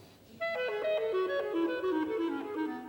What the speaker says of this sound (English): Here's a clarinet playing in 6/8 time.